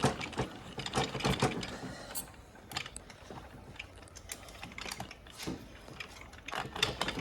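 One-way clutch from a Toyota A340E automatic transmission ratcheting as it is turned by hand, a quiet, close series of irregular metallic clicks and rattles with no talking.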